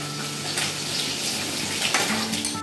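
Half a tomato dropped into hot frying oil with dry red chillies and garlic, giving a dense, steady sizzle with crackling bursts and a slight stirring clatter, close and continuous with no talking.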